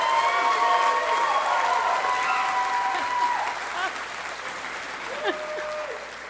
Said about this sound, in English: I want you to know that you're allowed to cheer like that at any moment during my set